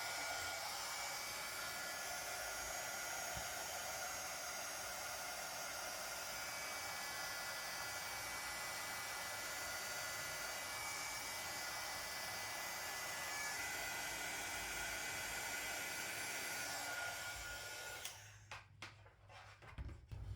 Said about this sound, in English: Now I'm going to use my heat tool.